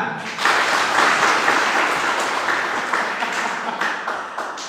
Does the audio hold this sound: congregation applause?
yes